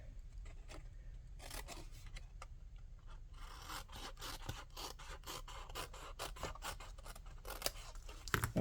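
Scissors cutting paper for a gift card sleeve, a run of quick crisp snips and rustles close by, faint overall and without any talking.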